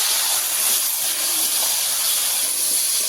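Water poured into a frying pan of spices for a fish curry with green bananas, giving a loud, steady hiss of steam that fills the short stretch without pause.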